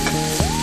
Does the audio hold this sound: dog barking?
no